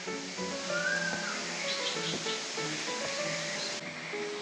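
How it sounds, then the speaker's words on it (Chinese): Mountain stream flows through a forested valley near the trail to Taian Waterfall, a steady, soft broadband rush of water with a brief bird whistle over it. "在这边就可以听得到左边溪谷传来的溪水声音。"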